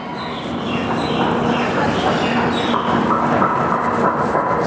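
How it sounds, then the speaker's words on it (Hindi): Passenger train, the Capital Express from Kamakhya to Siliguri, standing at a halt station beside a river, giving a steady, loud rumbling rail noise with faint clattering throughout. "तो ये रही हमारी ट्रेन"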